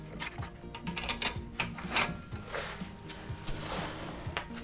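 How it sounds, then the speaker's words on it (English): A ratcheting wrench works on a Volvo XC90 rear hub, giving quick, close clicking ratchet bursts in uneven runs, with metallic ticks and faint shop background, no talk. "here I'm using a ratcheting wrench because there's not quite enough space for a regular ratchet"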